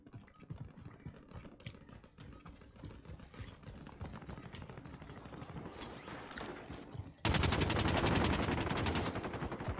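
Rapid gunfire from an Odin assault rifle in the video game Warzone, a fast stream of sharp shots that grows into a dense, louder continuous burst near the end, mixed with light clicking.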